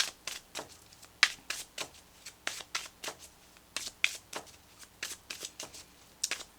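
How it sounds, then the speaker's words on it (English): Tarot cards being shuffled by hand, a steady run of crisp riffling bursts and soft slaps repeating in quick rhythm, close and clear with no talking. "Let's pull you an additional guidance card, Scorpio, for this week."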